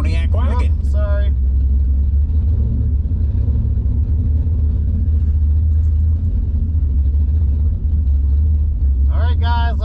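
Engines rumble steadily during a quarter-mile drag race between a Dodge and a Pontiac wagon, a constant low drone with brief bursts of nearby talk at the start and end.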